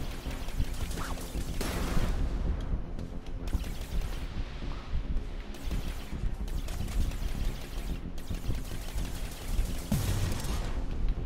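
Rapid bursts of gunfire from the PS4 video game Blue Rider crackle in clusters across a noisy, dense soundscape, with louder volleys standing out now and then.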